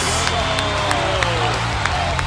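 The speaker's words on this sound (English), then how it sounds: "And he got a standing ovation." A large arena crowd of around 5,000 at a sports festival applauds and cheers in a standing ovation, dense and loud throughout with occasional whoops.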